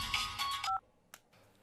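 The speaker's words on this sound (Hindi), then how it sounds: "फोन करो और कह दो मिसिंग 2 दिन से" Telephone number dialed on a keypad as a film sound effect in a Hindi-dubbed South Indian movie: a short run of close, clear electronic tone beeps, then near silence with a faint click.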